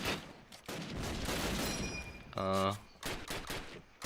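Rapid gunfire bursts in a round of a tactical shooter video game during a street push, loud and dense across most of the moment with a sharp burst near the middle, under a caster's excited voice.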